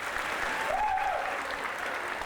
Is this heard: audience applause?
yes